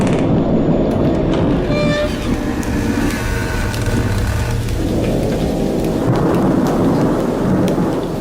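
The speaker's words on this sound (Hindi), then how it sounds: "मैं इस भयानक तूफान में बुरी तरह फंस गया हूँ" A fierce nighttime thunderstorm with heavy rain pouring down continuously, loud and close, with rolling thunder rumbling through the downpour.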